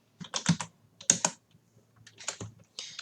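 Typing on a computer keyboard while entering text into WPS Office: irregular clusters of soft, close key clicks with brief pauses between them.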